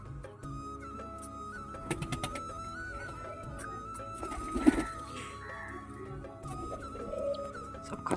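Pigeons brought from Bangladesh coo softly while feeding, low murmuring calls running steadily throughout with a few louder rustles and flutters mixed in, fairly close and moderate in level.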